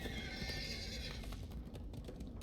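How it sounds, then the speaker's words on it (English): A horse in the video game DDO gives a loud whinny at the start, then hooves clip-clop steadily over continuous game background sound. "Ride a horse"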